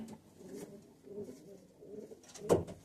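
Pigeons in a breeding loft give soft, low coos in a few repeated phrases, faint and nearby, with a sharper rustle or flutter near the end.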